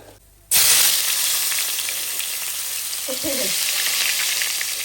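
Chopped onions drop into a pan of hot oil and burst into a loud, steady frying sizzle after a brief quiet start, with a short spoon scrape partway through.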